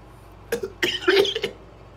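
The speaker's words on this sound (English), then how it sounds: "Sorry, morning cough" A few harsh, raspy morning smoker's coughs come in quick bursts, close and fairly loud, with short pauses between them.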